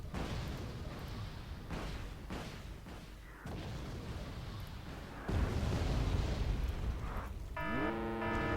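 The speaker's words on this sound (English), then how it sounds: "That precision artillery is going to kill us easily." Precision artillery strikes in the Wargame Red Dragon strategy game land as a string of heavy, rumbling explosions, several blasts back to back and fairly loud, ending with a rising electronic tone.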